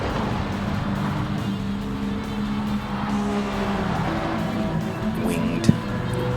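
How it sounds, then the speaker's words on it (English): Ford GT40 and Ferrari LaFerrari race cars in a racing video game hold a loud, continuous engine drone with shifting pitch, ending in a brief sharp click. "GT40 for Claude there. James in the LaFerrari"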